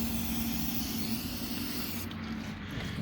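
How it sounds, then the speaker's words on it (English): Carburetor cleaner sprayed from a can onto race engine parts during a teardown, a continuous close aerosol hiss with a slight rubbing texture, alone. "Carburetor cleaner is like the best shit, but it's expensive to keep using."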